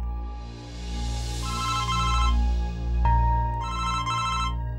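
Electronic phone ringtone chiming in repeated melodic bursts, nearby and fairly loud, with no voices over it.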